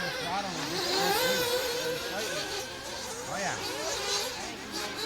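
Nitro 1/8-scale RC buggies racing around a dirt track through a supercross section and rollers onto the start straight, high-pitched engines whining and revving up and down continuously, with a race announcer talking over them.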